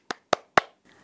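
Three crisp, evenly spaced hand claps close by, each short and sharp, followed by a faint softer sound.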